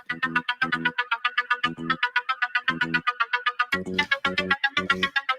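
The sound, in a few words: incoming WhatsApp call ringtone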